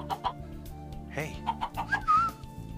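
Minecraft chickens clucking nearby in short, bright bursts over game background sounds, with a whistle-like squawk near the end and a faint voice in the mix.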